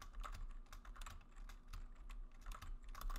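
Steady, fast clicking of computer keys as code is typed, quiet and close with an even rhythm and no talking.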